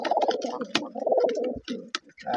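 Many pigeons crowd a pigeon farm, their cooing close and busy in overlapping low, throaty calls, with a few sharp clicks or wing noises mixed in.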